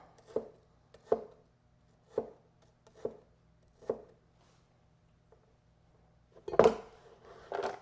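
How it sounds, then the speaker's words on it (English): A sharp kitchen knife chops food on a board during gluten-free dinner meal prep, giving five evenly spaced crisp thuds followed by a louder cluster of cuts at the end, close and clear with no talk. "A sharp knife is just going to cut truer."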